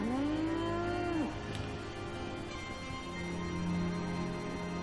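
A brahmin, the mutant cow of the Fallout 4 video game, lets out a loud, drawn-out moo that swoops down at the end. It is followed by steady game ambience and a fainter low moo later on.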